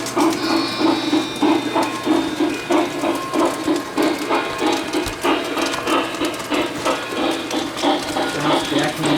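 A model train running in a museum layout plays locomotive sounds recorded from real engines, with steady rhythmic chuffing and mechanical clatter close by and a short whistle-like tone early on.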